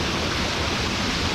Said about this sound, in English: A unique, incredible waterfall.